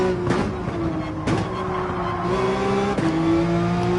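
A GT race car lapping Brands Hatch in the video game Gran Turismo 7, its engine held at a steady high drone with sharp pitch drops at gear shifts and a strong low rumble.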